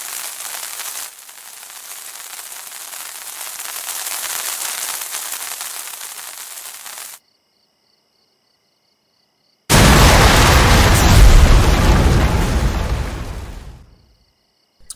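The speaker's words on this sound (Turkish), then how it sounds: "Biraz abartılmış bir patlama sahnesiydi gibi düşünüyorum." Explosions in the Sherlock Holmes Crimes and Punishments video game give a long rumbling, crackling blast that cuts to silence, then a second loud burst with debris roar that fades out.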